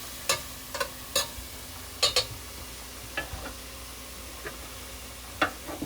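A metal spatula scraping and clicking against a frying pan while stirring food in an RV kitchen, a series of sharp irregular taps over a faint sizzle.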